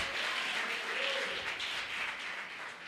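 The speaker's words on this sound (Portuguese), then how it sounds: "Você pode aplaudir o Senhor?" A church congregation applauds during a Portuguese-language sermon, a steady, moderately faint wash of clapping sustained for a few seconds with no clear speech over it.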